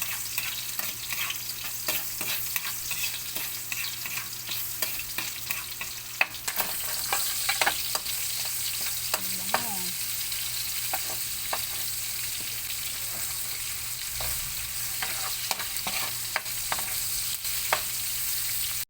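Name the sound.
sautéing garlic and onion in pan used for frying salmon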